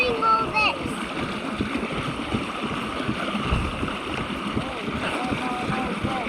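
Kayak moving through the water of the Colorado River in Black Canyon, a continuous wash and splash of water around the hull with wind noise on the microphone and people talking over it.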